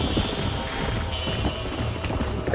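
A horse gallops in Red Dead Redemption 2 while a bronco is being broken, its hoofbeats a quick, continuous clatter over the game's ambient noise, with faint vocal sounds mixed in.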